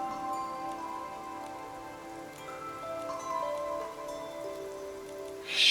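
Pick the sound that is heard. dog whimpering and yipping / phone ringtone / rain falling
rain falling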